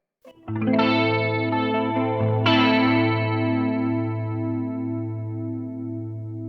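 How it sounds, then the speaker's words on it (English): An electric guitar on both pickups, run through an MXR chorus pedal, rings out one chord, then the same chord is struck again and left to shimmer and slowly fade, loud and close with no talking. "I'll just hit the same chord every time and let it ring so we can hear exactly what it sounds like."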